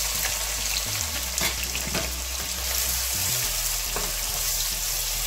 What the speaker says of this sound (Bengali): পেঁয়াজটা একটু ভেজে নিব আমরা কিছুক্ষণ।